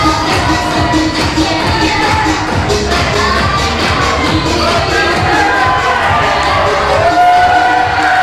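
Wrestling crowd at an SWA event cheering for a heavyweight champion, a loud, continuous roar of many voices filling the hall without letup.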